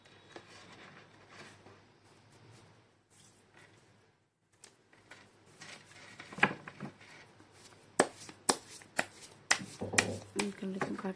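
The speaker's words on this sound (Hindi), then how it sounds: "कर लेते हैं कार्ड की शफलिंग।" Tarot cards shuffled by hand, soft riffling at first, then sharper, louder slaps and snaps in quick bursts toward the end, with a brief near-silent pause midway.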